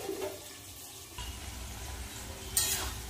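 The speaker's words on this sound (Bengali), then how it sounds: "সিমগুলো হালকা ভাজা হয়ে গেছে" Broad beans fry in a pan with a soft, steady sizzle and a few stirring scrapes, fairly quiet and close, with no voices.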